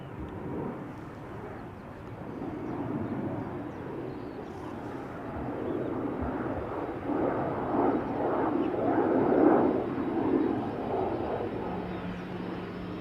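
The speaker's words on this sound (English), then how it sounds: "Right, so this is an A330-300 going to Orlando, Florida." A Delta Airlines Airbus A330-300 at Schiphol Airport, a broad distant jet engine roar that swells gradually and stays continuous, heard from afar without talking.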